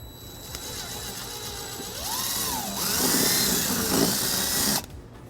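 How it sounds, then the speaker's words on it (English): A power drill fitted with a 3/16 bit bores a hole into a 2018 Kia Sorento bumper, close and steady, its whine rising and shifting in pitch as it cuts, then stopping abruptly. "we'll go ahead and use a 3/16 drill bit to drill our first hole"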